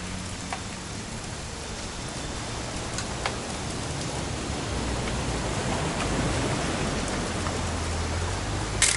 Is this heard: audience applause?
no